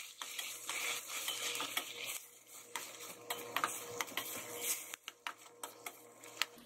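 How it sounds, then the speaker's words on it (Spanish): Onions and tomato being stirred together in a pan for Mexican-style zucchini, a spoon scraping and clinking in an irregular rhythm over a soft, steady sizzle, close by with no talking. "vamos a agregar nuestro jitomate. Y vamos a incorporar todo perfectamente."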